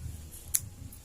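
A single quick, crisp snip of scissors cutting crochet yarn, close and fairly faint against a low background rumble.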